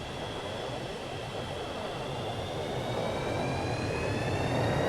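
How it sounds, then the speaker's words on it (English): FlyJSim Boeing 727 thrust reversers in X-Plane 11: a loud, steady jet roar with a broad rumble and thin whining tones that slowly drift upward, building slightly over several seconds with no talk. "Reversers kick in."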